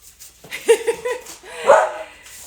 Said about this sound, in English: my son is intentionally trying to sabotage me here with lasers to get the dogs to bark